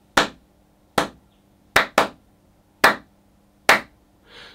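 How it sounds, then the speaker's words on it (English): Five sharp, separate hand claps in a small room set up for filming, each close and loud with a short decaying tail, spaced roughly a second apart. "Let me just do the clap test."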